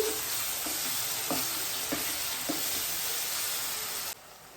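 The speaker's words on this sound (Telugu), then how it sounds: "ఈ జింజర్ గార్లిక్ పేస్ట్ బాగా ఫ్రై చేసుకోవాలి" Ginger garlic paste sizzles steadily in a pan as the base for a prawns pepper fry, with soft stirring scrapes every half second or so, close and continuous, cutting off near the end.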